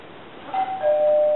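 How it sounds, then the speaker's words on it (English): A doorbell chimes twice, a two-tone ding-dong ringing clearly against a quiet background. "There's the front doorbell then."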